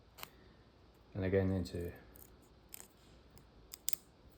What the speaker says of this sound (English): These are very blunt scissors.